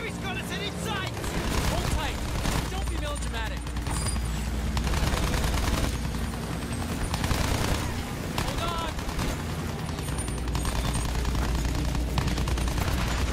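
Dense gunfire from Battlefield 1 aimed at a bomber plane, rapid machine-gun bursts and shots crackling continuously over engine drone, with someone talking over much of it.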